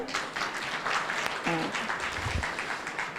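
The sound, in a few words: clapping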